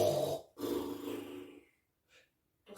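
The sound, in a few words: narrator imitating a wolf snoring loudly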